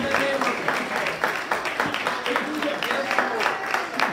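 Church congregation at a revival service clapping hands in praise, a rhythmic, moderately loud clapping pattern running under a preacher's voice and background music.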